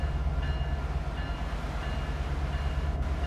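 A train rolling in a railway simulator game on the San Bernardino line, a steady low engine and rail rumble with faint tonal whine throughout, no talk.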